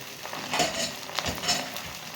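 Meat with onions, peppers and tomatoes stirred in a pot while making kebab stew, giving soft wet sizzling and several scraping strokes at a moderate distance, with no voices.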